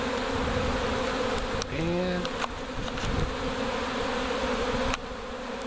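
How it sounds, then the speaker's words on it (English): A honey bee swarm buzzes steadily and loudly all around, close and dense, with bees striking nearby; a brief voice speaks once partway through. "It's got to be a swarm. I mean, oh yeah, they're banging all over me"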